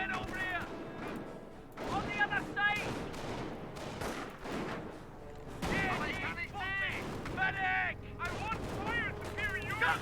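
Rapid gunfire and bursts of small-arms shots in Company of Heroes, a World War II strategy game, with a German Kettenkrad charging and a lieutenant firing back, layered over battle noise and crackling effects.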